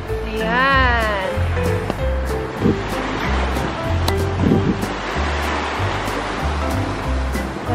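Ocean waves wash steadily onto a rocky beach in La Union, a continuous surf roar close by, with a music track playing over it.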